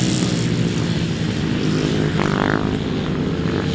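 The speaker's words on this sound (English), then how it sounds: "He's got that throttle wide open." A grasstrack racing motorcycle held at full throttle, a loud sustained engine drone, steady and close, with a brief rise in pitch partway through.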